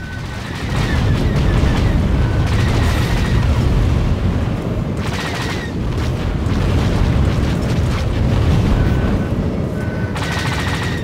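Missile explosions and weapon fire in the space combat game Star Wars: The Old Republic Galactic Starfighter, a loud, continuous rumbling barrage with repeated heavy booms and crackling bursts that never lets up.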